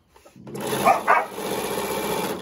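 A couple of sharp dog barks sound close by in a home while quilting work goes on, two short bursts standing out over a steady mechanical hum.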